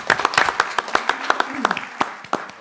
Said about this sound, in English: I think applause is in order.